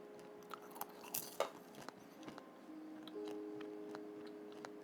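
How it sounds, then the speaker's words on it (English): A person chewing popcorn up close, with soft intermittent crunches and clicks, several brief bursts early and sparser ones later, over a quiet room with a faint steady hum. "you're gonna hear some popcorn eating in a second. Popcorn chewing ASMR."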